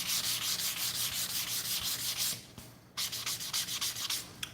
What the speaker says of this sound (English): Just sand these up